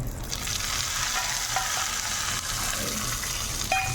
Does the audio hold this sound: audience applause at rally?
no